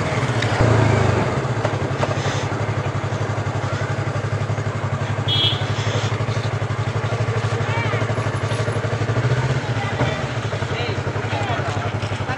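Motorcycles ridden along the road between Chennai and Bangalore, giving a steady, close, loud engine drone with constant wind rush for the whole stretch, and voices faint underneath.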